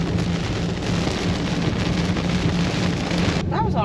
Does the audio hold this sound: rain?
yes